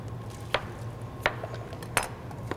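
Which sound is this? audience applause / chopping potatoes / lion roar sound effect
chopping potatoes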